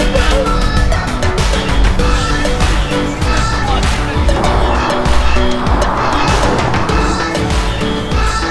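Tesla in Ludicrous mode accelerating hard on a public road, a dense loud roar of motion and road noise that swells and rushes throughout with no clear speech.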